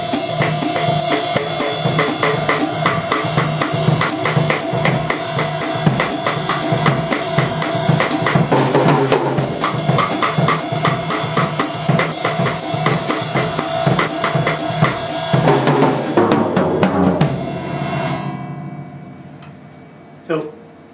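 A samba rhythm plays at a fast tempo, felt in two beats. The dense, steady pattern continues for about seventeen seconds and then cuts off, with brief sounds after the break.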